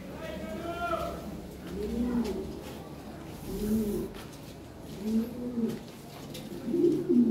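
Lahore pigeons coo in repeated low, rolling phrases at a steady rhythm, close by, with a soft background hum and no clear talking.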